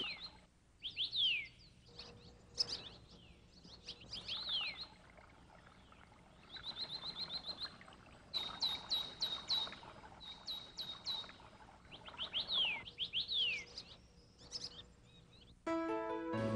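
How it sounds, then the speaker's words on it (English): Birds sing and chirp in a mountain forest at Lishan, Taiwan, with repeated bright whistled phrases and rapid trills that come in bursts between short quiet gaps. "The forest here also has a powerful attraction for all kinds of birds that come here to nest"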